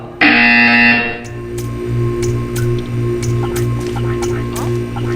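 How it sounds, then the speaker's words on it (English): A loud electronic buzzer from Portal 2 blares for about a second, then gives way to a rhythmic pulsing hum with faint ticking. "You will hear a buzzer."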